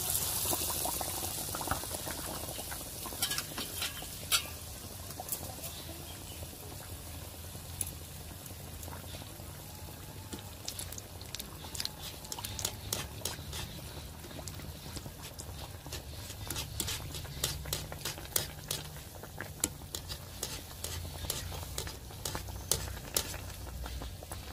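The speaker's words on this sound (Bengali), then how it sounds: "এবারে চপটা আমি ভেজে নেব, বেসনের মধ্যে ডোবাবো আর ছাড়বো চপ।" Potato chops dipped in gram flour batter fry in hot oil, giving a steady bubbling sizzle with scattered sharp crackles and pops throughout.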